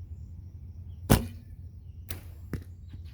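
A traditional bow shoots an arrow during string-walking target practice: one sharp, loud release snap, then two fainter thuds or clacks a second or more later, with no talking.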